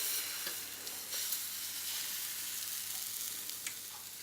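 Crepe batter sizzles in a pan with a soft, even hiss and occasional faint crackles; nothing else is heard.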